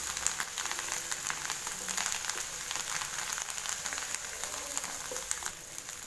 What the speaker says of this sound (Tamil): இப்போ இது கூட கொஞ்சமாக பொடியாக நறுக்கின கொத்தமல்லி சேர்த்து வதக்கி விட்டுக்கலாம்.